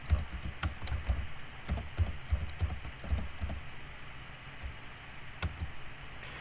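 Rapid, irregular clicking of keys on a computer keyboard, quiet and close, continuing steadily with short pauses and no talking.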